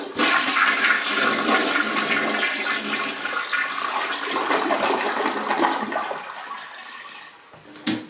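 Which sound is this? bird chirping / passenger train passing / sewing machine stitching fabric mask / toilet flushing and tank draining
toilet flushing and tank draining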